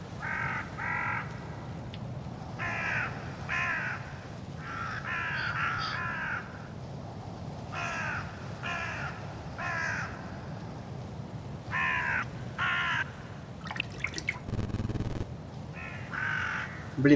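Crows caw repeatedly in the sZone Online game world, coming in short bursts of two or three harsh calls spaced a second or two apart over a low ambient hum, with a brief rustling noise near the end.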